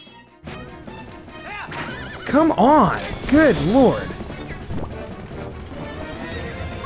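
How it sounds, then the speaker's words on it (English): Horse in Zelda: Twilight Princess HD neighing in loud, warbling whinnies amid clip-clop hoofbeats and game effects, while someone talks over it. "Come on, move, you stupid horse!"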